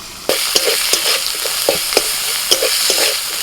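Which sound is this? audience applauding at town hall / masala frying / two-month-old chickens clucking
masala frying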